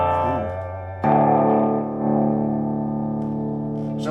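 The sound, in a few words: guitar through Burman 501 amplifier with gain turned up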